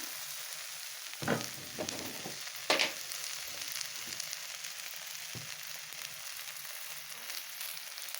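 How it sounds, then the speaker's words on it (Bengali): Steady oil sizzle of food frying in a pan, with a couple of scraping stirs near the start. "সবগুলো দিয়ে এখন একটু ভাজা ভাজা করে নেব"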